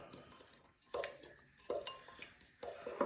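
A spoon stirs paprika chicken in a pot, with quiet scraping and a few distinct metallic clinks against the pot's side at intervals, soft and close, with no talking.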